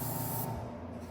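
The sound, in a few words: airbrush spraying paint off a stencil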